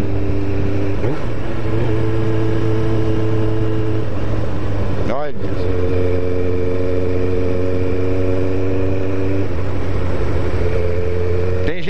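A Kawasaki ZX7R sport motorcycle cruising on a country road, its engine a steady, loud, close drone with a brief dip and recovery midway, under a spoken word from the rider.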